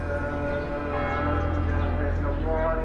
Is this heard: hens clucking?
no